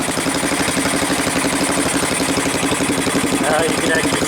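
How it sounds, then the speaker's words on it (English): A 1985 Yamaha BW 200 with a hole in its exhaust idles close by, a steady rapid engine putter with a sputtering exhaust leak running throughout, loud and continuous. "Got a hole in the exhaust."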